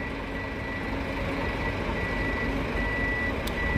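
A coach pulling into the Ribeirão Preto bus terminal sounds steady, repeating reversing beeps over a constant low engine rumble and general terminal noise, with no talk.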